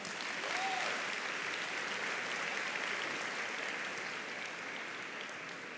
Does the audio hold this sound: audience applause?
yes